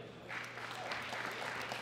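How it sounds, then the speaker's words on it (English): An audience at a world classic powerlifting championship applauds, a steady burst of clapping that swells after a quiet start and carries on evenly, moderately loud and at some distance. "Big round of applause for Jacob McKinnon."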